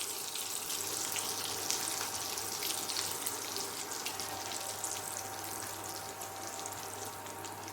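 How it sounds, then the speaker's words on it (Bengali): Bay leaves, whole garam masala and cumin sizzle in leftover oil, a steady faint crackling hiss with fine spattering pops throughout, no voices. "পড়ে আছে যেটুকু তেল তার মধ্যেই দিয়ে দেব 2টি তেজপাতা, গোটা গরম মশলা, আর দিয়ে দেব জিরে"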